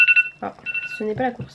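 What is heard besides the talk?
mobile phone alert sound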